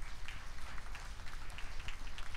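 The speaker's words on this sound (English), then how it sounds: "That deserves a hand clap of praise." Congregation applauding at a church birthday celebration service, a steady wash of many hands clapping at once, fairly distant and even, with no voices standing out.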